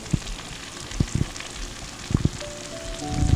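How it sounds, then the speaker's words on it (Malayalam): Chicken fries in a pan with a soft, steady sizzle and a few sharp pops and crackles near the start and middle, the bubbling swelling slightly toward the end. "ചിക്കൻ ഫ്രൈ ഏകദേശം റെഡി ആയിട്ടുണ്ട്."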